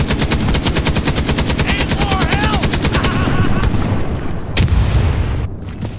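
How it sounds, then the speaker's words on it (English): Rapid machine-gun bursts and single shots ring out in the WWII shooter game Hell Let Loose, loud and near, with sustained automatic fire that thins toward the end, where a heavy boom lands. "They are firing at us."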